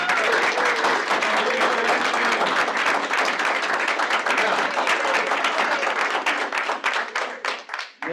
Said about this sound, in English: Let's give a round of applause and stand up if you're an admin